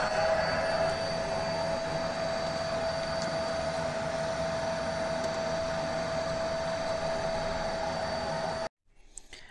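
A vacuum cleaner runs steadily with a constant whining drone while cleaning the dusty fan of a PS5 console left a year without maintenance, then cuts off abruptly near the end.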